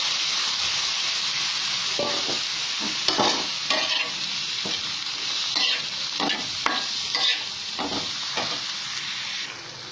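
Chopped tomato, carrot and onion frying with scrambled egg in a pan, with a steady bright sizzle under repeated scraping strokes of a spatula, close and loud, no one speaking.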